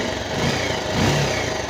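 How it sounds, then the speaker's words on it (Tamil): A Bajaj motorcycle engine, newly started after an ignition fault check, runs at a steady, fairly loud idle with a low rumble and a slight swell in the middle. "வண்டி ஸ்டார்ட் ஆகிடுச்சு."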